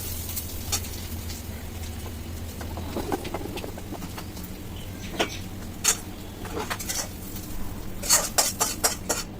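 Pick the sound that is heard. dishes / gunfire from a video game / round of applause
dishes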